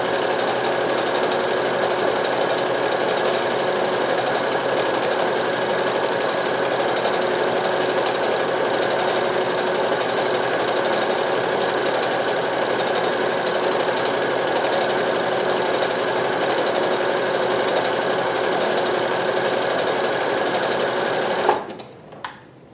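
A Brother CP7500 computerized sewing machine stitches a decorative pattern, a steady, loud, fast mechanical whirr that runs without a break for about twenty-one seconds, then stops abruptly with a few faint clicks.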